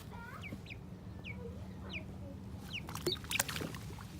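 Chicken clucking during a warm-water bath, a series of short rising clucks over a low steady hum, with a few sharper, louder calls near the end; no talking.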